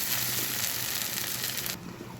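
Chopped onion frying in a generous amount of mustard oil, stirred in the pan, giving a steady close broadband sizzle that drops off near the end.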